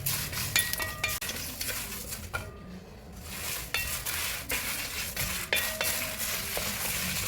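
Chillies fry in hot oil in a pan for a Kerala Onam sadya, a steady close sizzle broken by repeated scraping and clinking of a spoon stirring against the metal, with no voices.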